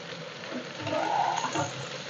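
Onion and capsicum sautéing in a pan for a masala gravy, giving a soft, steady sizzle with faint stirring scrapes, quiet and close with no voices.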